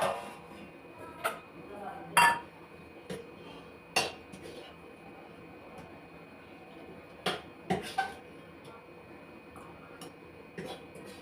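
Cutlery and dishes clink and clatter in scattered, fairly close bursts while food is being served at home, with quiet pauses between the sharp knocks.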